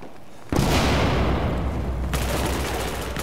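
A powerful gun fires in Battlefield 4 with a sudden loud blast, followed by a sustained roar of close gunfire and booms that swells again near the end, with no talk over it.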